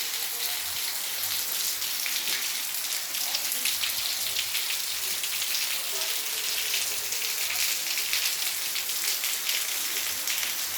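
Steady, dense rain pattering on surfaces, a constant hiss with no break, with faint voices in the background.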